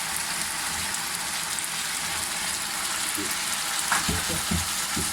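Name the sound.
chicken added to sizzling sauce in pan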